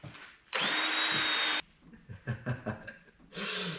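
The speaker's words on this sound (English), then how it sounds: "this is a little polishing pad, and it is polishing up the surrounding area, making it really shiny" A small power polishing pad works over scratched paint on a flood-damaged Porsche Boxster, whirring loudly in two bursts about a second long each, with faint handling noises and breathing in between.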